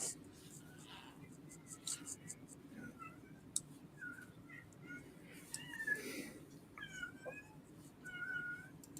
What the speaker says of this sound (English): Oh, now he's got one of the other ones meowing.